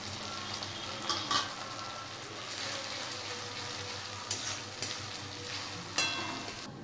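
Chopped green chillies fry in a pan for a rajma dish, giving a steady, close hiss of sizzling oil with a few brighter crackling pops scattered through.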